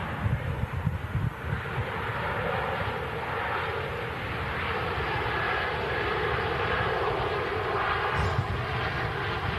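A Ryanair airliner from Gdansk gives off a continuous broad jet roar at moderate distance, steady throughout with some gusty wind noise.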